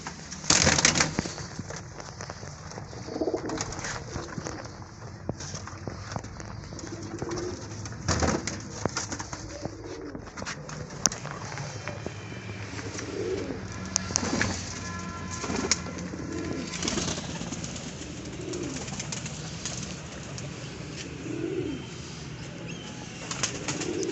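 Pigeons coo in low, throaty murmurs while wings flap and flutter in bursts nearby, a busy, continuous flock sound with no talking.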